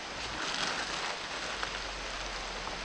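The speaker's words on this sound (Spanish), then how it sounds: "Se nos largó la lluvia." Rain pours down steadily on a roof or awning, a dense continuous hiss of drops close by with no talk over it.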